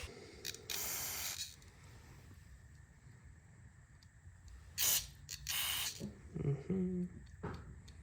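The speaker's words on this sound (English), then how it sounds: "I'm gonna start using my carb cleaner to blow out that green stuff and any of those other holes" Carb cleaner sprayed from an aerosol can into the small passages and jets of a carburetor with a faulty primer bulb, several short hissing bursts close up, separated by quiet pauses.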